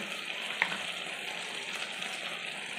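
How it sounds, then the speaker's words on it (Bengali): Chilli powder and turmeric, added with ginger-garlic paste, fry in hot oil in a pan while prawns are being cooked, giving a steady close sizzle with one small pop near the start and no talk. "এবার সব মশলাটা দেওয়ার পরে আমাকে ভালো করে কষিয়ে নিতে হবে মশলাগুলো"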